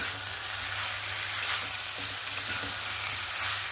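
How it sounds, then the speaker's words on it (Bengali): Sugar being stirred into a raw pumpkin and fish-head curry in a frying pan, giving a steady, close hiss of frying with soft scraping stir strokes throughout and no talk. "চিনিটা দিয়েও ভালো করে নাড়াচাড়া করে নিলাম।"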